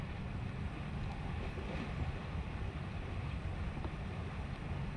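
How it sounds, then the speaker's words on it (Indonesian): Steady wind blowing across an outdoor air-rifle shooting range, a constant broad rushing roar with buffeting against the microphone, alone with no talk. "Angin."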